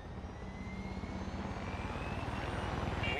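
An aircraft taking off in Far Cry 6, a loud, steady engine drone with a rhythmic pulsing, like rotor blades, that grows slightly stronger over a few seconds, with no speech.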